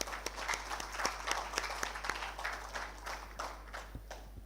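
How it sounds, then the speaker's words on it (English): Applause from the audience at an African youth conference, a lively spread of many hands clapping with sharp individual claps standing out, easing off toward the end over a low steady hum. "we deserve a round of applause for ourselves"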